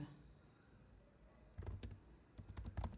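Keys on a computer keyboard clack in short bursts of typing after a quiet stretch, close and fairly soft.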